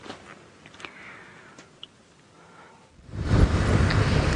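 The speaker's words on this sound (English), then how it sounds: "the weather is also tricky in Juma, and the wind is howling." Strong wind gusts in during a stormy afternoon safari drive in Africa, a faint rustle at first, then a loud, broad roar of buffeting wind noise on the microphone for the last second and a half.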